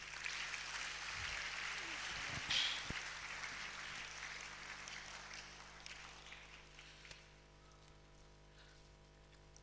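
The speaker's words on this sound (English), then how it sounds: "And another round of applause for our global icon." Crowd applause fills the space, a dense patter of clapping that gradually fades toward the end.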